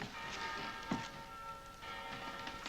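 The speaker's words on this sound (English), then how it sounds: "Those cathedral bells." Cathedral bells ring in the New Orleans French Quarter, their sustained, overlapping tones faint and hazy beneath background noise, with no speech.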